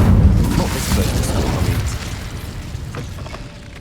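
The Incendiary fire spell in Hogwarts Legacy goes off in a loud, rumbling burst that fades over a few seconds, with some mechanical clatter in the mix.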